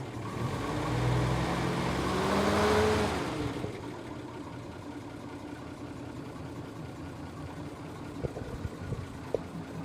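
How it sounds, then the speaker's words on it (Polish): A loud truck engine roars and revs briefly, then settles into a steady low idle rumble, close by, with a couple of small clicks. "Posłuchajcie sami tego silnika."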